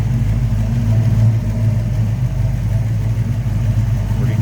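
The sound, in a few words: 1991 Ford Mustang LX engine running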